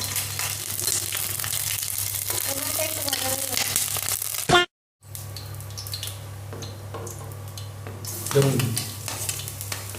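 Cardamom, cinnamon and dried chilli frying in hot oil, a steady broadband sizzle with a low hum beneath, briefly cut off midway before resuming, with occasional stirring knocks.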